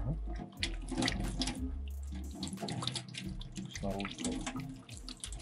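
Water runs steadily from a tap, splashing and gurgling into a sink while a fish is rinsed, with some handling noise, close by.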